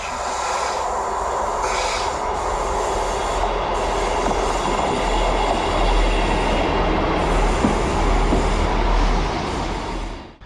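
A train rumbles steadily at a station with a deep, continuous roar, wheels grinding and faint squeals over the top, loud and close throughout.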